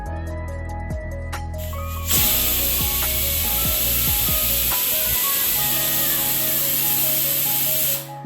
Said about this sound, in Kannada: ಈಗ ಒಂದು ವಿಸಿಲ್ ಬಂದಿದ್ದಾಯಿತು